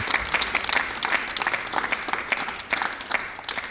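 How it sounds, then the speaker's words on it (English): Loud, sustained applause from the audience at a televised scholar competition in Abuja, cheering a champion, full and dense with individual claps popping through the steady wash. "A round of applause for a champion from FCT Abuja."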